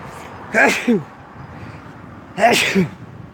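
Two sharp sneezes, a couple of seconds apart, each a quick breathy burst close to the listener against a quiet background.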